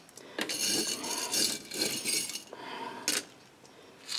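A plastic McFlurry spoon stirs a chemical solution in a container, giving light scraping and clinking strokes in a steady, close run with a few sharper taps.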